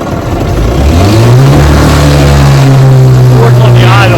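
A restored 1956 Gale Buccaneer outboard motor runs at idle, a loud, steady low mechanical hum whose pitch settles and holds after a brief rise, close to the microphone.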